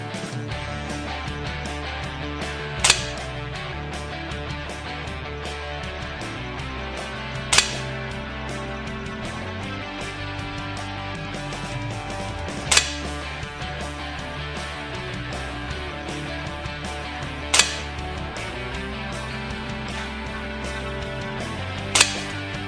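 An air gun fires pellets at a target, five sharp cracks spaced about five seconds apart over a steady background hum, with no talking.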